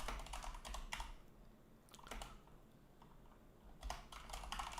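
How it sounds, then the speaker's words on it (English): Keys clatter on a computer keyboard in quick bursts of typing, broken by short pauses, close and fairly quiet with no talking. "Start typing."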